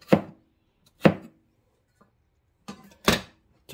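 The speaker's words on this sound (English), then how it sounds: "Chop the turmeric as well." A knife chopping turmeric on a board, four or five separate sharp cuts with irregular pauses between them, close and clear against near silence.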